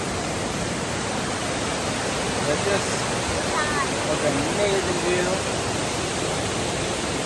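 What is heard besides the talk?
waterfall near Tay Thien temple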